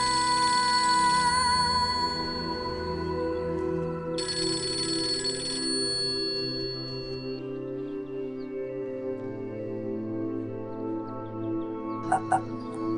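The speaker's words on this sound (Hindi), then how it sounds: "अम्मी, ये ले पप्पू का फोन" A phone ringtone plays loudly and steadily from the start, with bright electronic tones repeating in bursts over the first several seconds before the sound thins out, and a few short clicks near the end.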